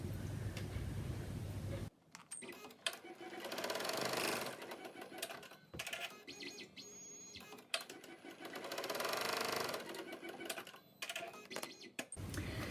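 An embroidery machine sews a contour face mask held in the hoop, a busy mechanical chatter that runs in uneven bursts and pauses at close range, with no talking.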